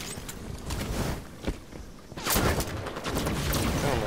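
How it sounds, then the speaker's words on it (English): A rapid barrage of booms and gunfire in Halo 5: Guardians, dense and loud, swelling into a heavier roar in the second half. "A whole bunch of explosions going off."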